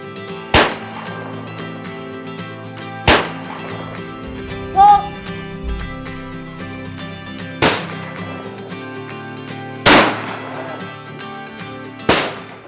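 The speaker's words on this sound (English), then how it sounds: "we shoot sporting clays" Shotgun fire on a sporting clays course, heard as six sharp, fairly distant reports spaced a few seconds apart over steady background music.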